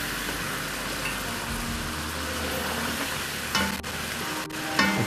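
Onions frying in a pan for a fish salan, a continuous crackling sizzle with stirring scrapes, then a few louder clanks of the spoon against the pan near the end, close and steady, with no speech.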